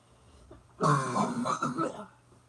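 A short burst of harsh coughing and throat clearing from swallowing air while laughing breaks out after a quiet moment, close and loud, lasting under two seconds.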